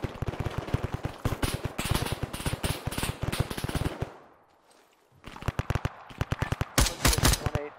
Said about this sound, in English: There's a guy firing at you guys in that square